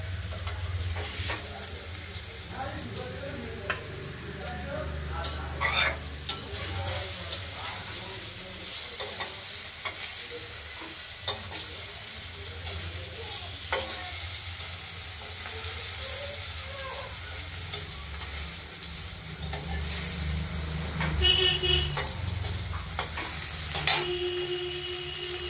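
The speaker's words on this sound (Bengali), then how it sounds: "এক এক করে সব ভাজাও হয়ে যাচ্ছে" Ash gourd slices stuffed with poppy seed paste fry steadily in a pan, a continuous close sizzle with occasional stirring and utensil taps throughout.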